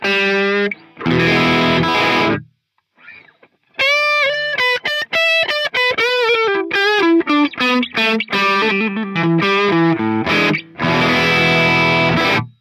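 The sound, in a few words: Ibanez RG5121 electric guitar crunch tone through Marshall SV20 amp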